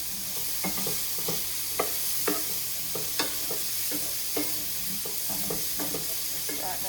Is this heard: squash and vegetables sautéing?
yes